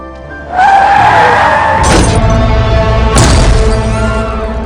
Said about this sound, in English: She gets hit by 2 cars and dies.